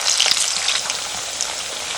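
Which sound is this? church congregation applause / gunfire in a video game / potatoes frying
potatoes frying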